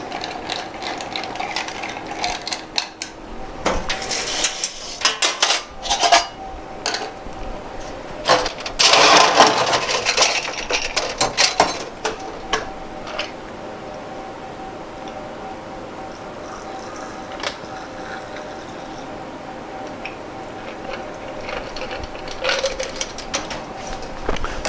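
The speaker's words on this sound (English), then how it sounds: "Ice. We don't stir too much because it can be over diluted." Ice clinking and rattling against a mixing glass as a White Negroni is stirred briefly to avoid over-dilution, a busy run of clicks and taps early on, then quieter, with no talk.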